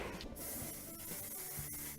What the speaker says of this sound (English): Mike, you better not be getting hairspray on my flat iron again.